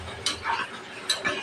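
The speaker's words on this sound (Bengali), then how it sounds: "নাড়াচাড়া করে নেব, নিচে যেন লেগে না যায়।" Bitter gourd being stirred with spices in a cooking pan, giving two short scraping bursts of a utensil against the pan, close and fairly quiet with no talking.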